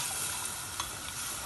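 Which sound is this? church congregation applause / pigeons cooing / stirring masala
stirring masala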